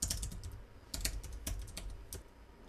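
Typing on a computer keyboard during a SQL lesson, a quiet run of irregular key clicks with a few sharper taps, close and alone without talk.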